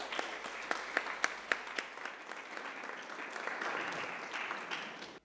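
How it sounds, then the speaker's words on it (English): Audience applause for a picture-book mindfulness panel at the Royal Textile Academy, opening with a few sharp distinct claps that swell into dense, sustained clapping before cutting off abruptly at the end. "One more round of applause for the panel."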